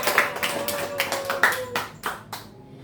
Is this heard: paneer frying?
no